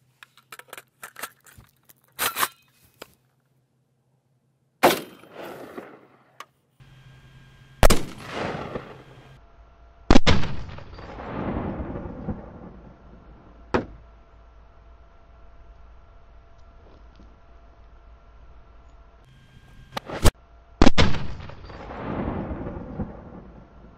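Gunshots from a ROMAK rifle firing Wolf 5.45mm 55-grain soft-point ammunition on an outdoor range, several loud sharp reports spaced irregularly, each with a long rolling echo, plus scattered clicks and handling noises between them.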